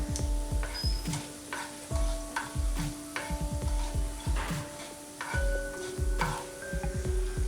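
Whole coriander seeds added to hot oil with cumin and stirred, a steady sizzle under a regular rhythm of repeated scraping and knocking strokes from the spoon against the pan, close, with no voices.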